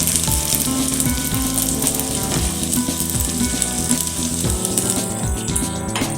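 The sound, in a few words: semolina paratha batter frying in frying pan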